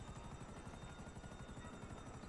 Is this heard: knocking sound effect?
no